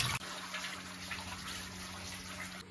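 Food is rinsed under running tap water in a kitchen, a steady close-up gush of water splashing for a few seconds, with no voices.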